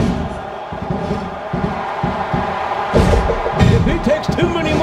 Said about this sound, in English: This capacity crowd can't get enough of these superstars